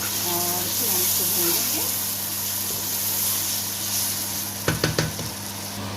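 Green chili and tomato go into a pan of keema, giving a steady sizzling fry under a constant hum, with a short burst of stirring or clattering near the end. A voice talks briefly early on.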